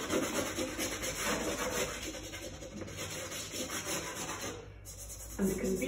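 A finger rubs crayon on paper in a soft, continuous scratchy texture. The scrubbing goes on steadily for about six seconds, close up and fairly quiet, with no talk.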